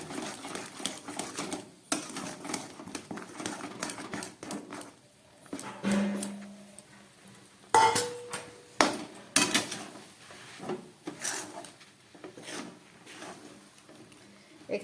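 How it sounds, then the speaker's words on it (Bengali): Rice flour stirred into boiling water in a pot for Bengali pitha, with a spoon knocking and scraping in irregular bursts and a short low hum partway through. "এবার এই ফুটন্ত জলের মধ্যে আমি চালের গুঁড়োটা দিয়ে দেবো দিয়ে দেবো আর নাড়বো"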